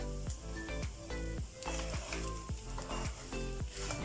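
Curry leaves crackle and sizzle in oil over a chicken roast, a quiet, continuous frying hiss beneath a regular, pulsing rhythmic layer.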